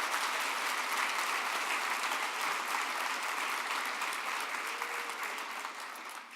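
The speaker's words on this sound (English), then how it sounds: "Let's give them one more round of applause." Dense, steady applause from an audience at a MindShare evening event for Grand Rapids Public Schools alumni, loud and close, filling the room throughout before tapering slightly at the end.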